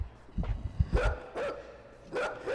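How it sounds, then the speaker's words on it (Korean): A dog barks in the side-scrolling video game Inside, giving a few sharp barks at mid distance over low rumbling game sounds. "오 개가 짖는다"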